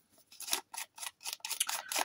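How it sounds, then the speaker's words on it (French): Thick paper being handled and worked while making paper flowers, giving a run of crisp rustling, snipping-like strokes in quick uneven bursts, close and fairly quiet, with no talking. "J'aime bien le bruit du papier, la texture qu'elle a."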